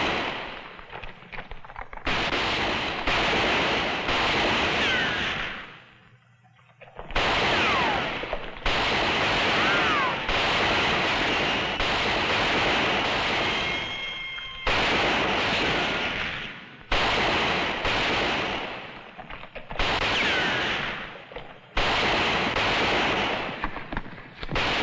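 Western shootout with repeated rifle and pistol gunfire, including a Winchester, loud close bursts of shots firing almost continuously with a few short pauses between volleys.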